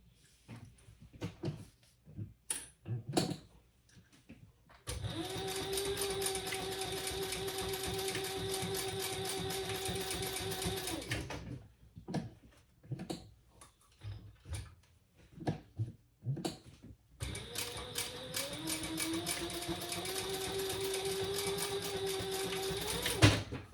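Sewing machine stitching rows across a folded belt bag, two long steady whirring runs of several seconds each, separated by quieter handling clicks and fabric shuffling.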